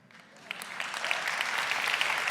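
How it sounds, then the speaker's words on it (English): An audience claps at a zero food waste culinary performance, the applause swelling from a light patter into steady, dense clapping that carries to the end with no speech over it. "I count about lots of applause"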